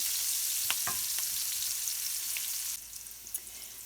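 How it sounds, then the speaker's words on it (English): Onion sautéing in bacon grease, a steady close hiss of sizzling with a few light utensil clicks, the sizzle dropping noticeably quieter near the end. "So we've added the onion to our bacon grease. And we're going to saute this a bit."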